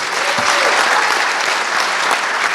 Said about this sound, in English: We need a big round of applause for volunteers